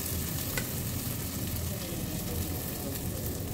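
Red chillies, asafoetida and kasuri methi sizzle in hot ghee for a tadka, a dense, steady crackling hiss close up with light stirring through it.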